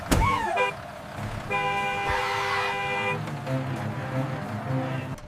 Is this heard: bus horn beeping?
yes